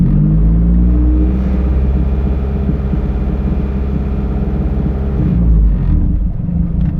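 A Honda EJ8 with a turbocharged D16 engine and a richened idle tune runs at a steady, loud idle, its low rumble continuous throughout and heard up close with no speech.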